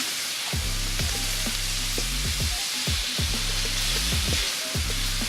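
Ground beef frying in a pan with seasoning for meat-lover's spaghetti: steady close sizzle with broadband hiss throughout, punctuated by repeated low clunks and scrapes of stirring.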